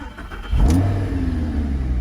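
A 2012 Lamborghini Gallardo LP550-2 with a naturally aspirated V10 cranks and fires up, settling into a loud, deep, steady idle close by with no talk over it.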